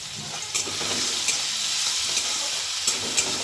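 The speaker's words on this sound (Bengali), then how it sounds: "চিংড়ি মাছ নিয়েছি নুন হলুদ মাখিয়ে রেখেছি এটা একটু হালকা করে ভেজে নেবো" Shrimp coated in salt and turmeric frying lightly in a pan, a steady, close hiss of sizzling oil with occasional soft scrapes and clicks as the pieces are moved.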